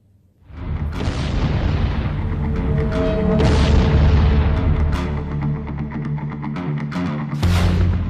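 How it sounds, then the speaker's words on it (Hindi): Iranian ballistic missile strikes on Beersheba, heard as a heavy booming roar that swells and rumbles for several seconds, very loud and dense, with repeated blasts layered over one another and no talk. "ईरान के बैलिस्टिक मिसाइल हमलों से दहल उठा बेरशेवा"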